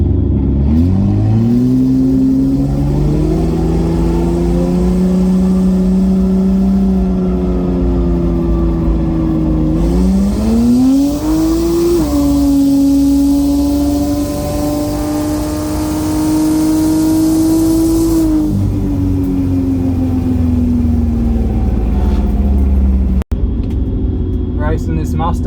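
A single-turbo BMW N54 car with a Precision 6466 turbo, running low boost, drag races a Supra. The engine note is loud and close, climbing in pitch through each gear with brief drops at the shifts.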